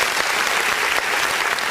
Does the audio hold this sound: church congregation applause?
yes